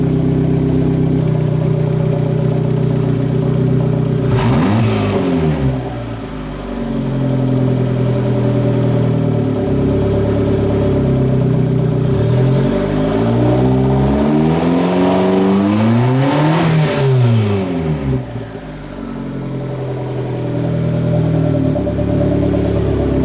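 A car engine idles steadily, its low rumble rising into two brief revs before settling back to a smooth idle.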